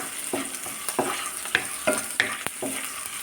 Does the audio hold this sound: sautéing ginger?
yes